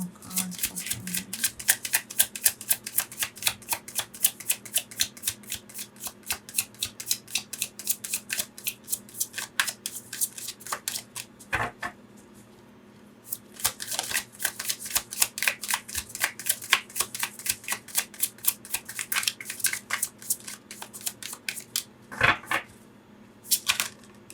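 Tarot cards shuffled and drawn at close range, a long run of rapid, crisp riffling slaps and flicks that pauses briefly midway before resuming just as busily, with a few sharper card snaps.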